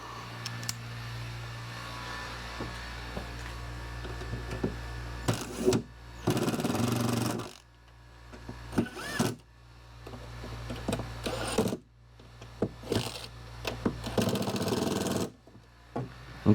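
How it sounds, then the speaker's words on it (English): A power drill drives screws into a plywood cart in a woodshop, several short bursts of whirring and revving separated by pauses, with a quiet hum underneath. "So we're going to sink these screws in all the way."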